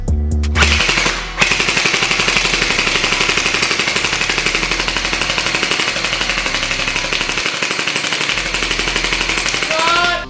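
Rapid automatic gunfire pours into an apple in a long, loud, unbroken burst of closely spaced shots, preceded by a brief pause after an opening blast.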